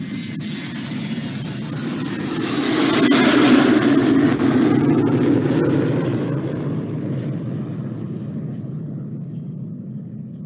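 Airplane sound played for a German lesson, a steady broad engine roar that swells in the middle and eases off, heard alone.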